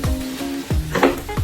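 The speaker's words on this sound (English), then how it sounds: "Frying ugu" Ugu leaves frying in a pot, a loud close sizzle with quick stirring scrapes and clinks over about a second and a half, with no talking.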